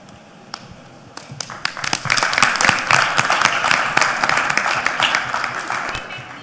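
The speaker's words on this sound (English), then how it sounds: "Applause louder for Team Rwanda as they take a bow" A crowd at a Junior Achievement Africa company-of-the-year competition breaks into loud, sustained applause for Team Rwanda after a quieter opening, with dense clapping that stays steady until the end.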